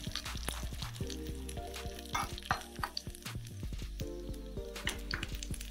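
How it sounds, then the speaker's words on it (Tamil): Three dried red chillies sauté in hot oil in a pan for a Kerala-style cucumber curd pachadi, with a steady close sizzle under scattered spoon clicks and stirring taps on the pan. "நெக்ஸ்ட் வந்து காஞ்ச மிளகாய் ஒரு 3 சேர்த்துக்கலாம். இதையும் நல்லா வதக்கி விட்டுடலாம்."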